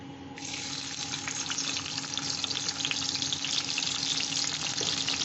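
Chopped garlic dropped into hot oil in a wok bursts into an abrupt sizzle that then holds as a steady, crackling fry, fairly close and with no talking.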